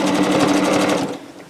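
A sewing machine stitches Minky quilt fabric, a fast steady run of rapid stitching that is close and loud, slowing and stopping near the end.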